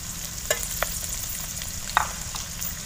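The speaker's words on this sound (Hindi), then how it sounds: "अब हम डाल लेते हैं दो प्याज रफली चॉप किए हुए।" Roughly chopped onions go into a pan of roasted spices for a street-style aloo chole pulao, and a steady faint sizzle carries on with a few soft stirring clinks, all at close range.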